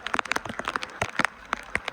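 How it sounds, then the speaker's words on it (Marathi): Heavy rain with strong wind in Raigad: drops patter sharply and irregularly on a nearby surface in a quick, uneven rhythm. "पाऊस एवढा आहे ना की मी पुढे चाललोय, मला मागे मागे फेकतोय पाऊस"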